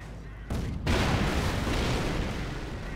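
Artillery fire booms in the World War II strategy game Company of Heroes during a 4 vs 4 match, a sudden heavy blast followed by a sustained rumbling roar of explosions and battle noise.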